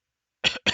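Two quick coughs from a person, close and fairly loud, the first slightly longer, with no talking around them.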